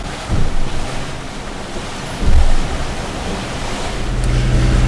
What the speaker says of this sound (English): The wind has been picking up.